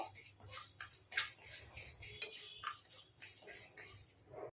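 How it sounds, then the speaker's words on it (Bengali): Half a cup of moong dal lightly dry-fried in a pan, giving a soft, continuous rustle and scrape of stirred lentils with small clicks against the metal. It is faint and steady, with no talking. "অল্প ভেজে নিচ্ছি পুরো লাল করে ভাজবো না"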